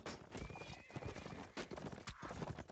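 Horse hooves clip-clop with a neigh in a busy game scene, layered with clashing effects and background noise.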